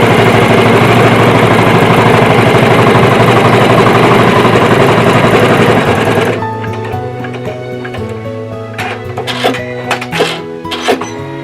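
An embroidery machine stitching an in-the-hoop Easter bunny treat bag, dense loud mechanical whirring for about six seconds, then stopping and leaving quieter clicks and clatter.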